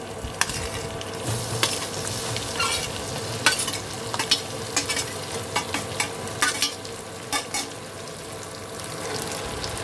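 Spiced raw tomato with garlic fries in hot oil with a continuous close sizzle, broken by repeated scraping stirs and light clicks of a utensil against the pan, with no talk.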